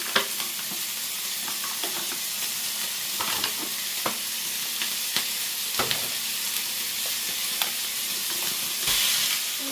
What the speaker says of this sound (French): On met les lardons.